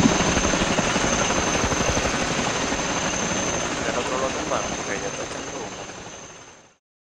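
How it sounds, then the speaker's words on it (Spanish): A helicopter in the video game Arma 3 drones with a steady rotor whine and thumping throb, holding for several seconds before fading out, with voices briefly over it. "Como pedimos dos helicópteros."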